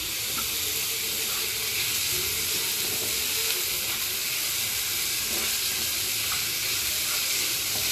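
Carrots and chopped onion frying in oil in a pan for veg momo filling, with a steady close sizzle and soft scraping stirs running throughout, no voices.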